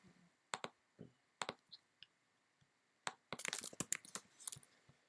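Clicking from a computer mouse during a click-and-drag in InDesign layout software, a run of sharp, close clicks scattered irregularly, with a dense burst of rapid clicks near the end.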